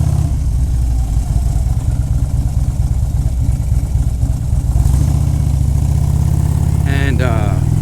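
A loaded motorcycle engine lopes along in low gear, a steady loud low rumble that runs throughout with a brief rise near the end, while a person talks over it.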